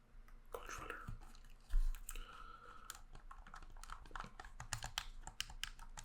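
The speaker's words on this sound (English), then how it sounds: "I found the sound of the buttons slightly more clicky and less mushy than my Switch Pro controller" Crisp plastic clicks from the buttons and triggers of a Bolt Edge ZX50 game controller, pressed in quick irregular bursts close up, with a soft whisper-like breath underneath.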